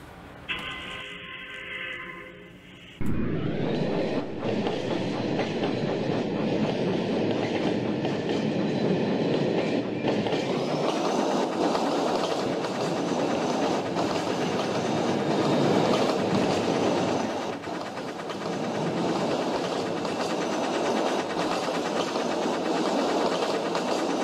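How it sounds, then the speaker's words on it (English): After a short quieter opening, a steam train suddenly roars in and rumbles steadily along the rails, loud and close, with a continuous rattling clatter. "there was a steam engine waiting for his passengers to take him home"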